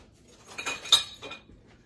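Kitchen utensils clinking as a whisk is grabbed while making a chocolate cream cheese pound cake, a few quick light metallic clinks and rattles over about a second, close and fairly quiet.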